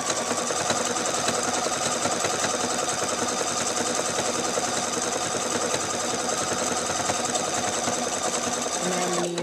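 A Pfaff Expression 4.0 sewing machine runs a hand quilt stitch, giving a steady, fast, even mechanical whir that stays close and loud throughout and changes only slightly at the very end.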